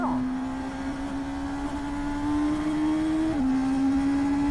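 A Honda CB 1000R 2024 motorcycle engine drones at a steady pitch that climbs gradually, then drops abruptly with a quickshifter shift before carrying on, loud and close.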